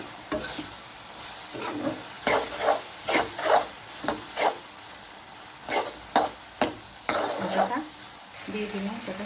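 Turmeric, chili, cumin, coriander and ginger-garlic paste fry in a pan for prawn bhuna, with a soft steady sizzle under repeated scraping stirs in an uneven rhythm, close and alone without talk.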